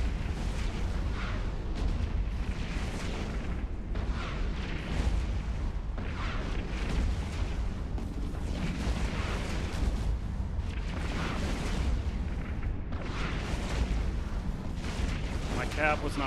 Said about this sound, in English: Now I'm ripping him apart with my rockets.